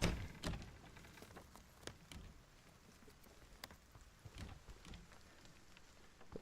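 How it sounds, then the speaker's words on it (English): Rain in Silent Hill 2 Remake, a quiet, steady patter with scattered sharper drops and taps tapering off in loudness, faint throughout. "It's raining now."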